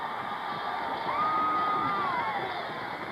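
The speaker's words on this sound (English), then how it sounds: "there you see a sellout crowd" A sellout football stadium crowd in Norman, Oklahoma, at the 1971 Nebraska–Oklahoma game, roaring in a dense, sustained cheer with a whistle rising above it, loud and continuous throughout.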